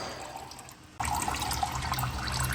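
Thin, watery oil draining from a V8 engine, a steady splashing pour that starts suddenly and keeps running close by.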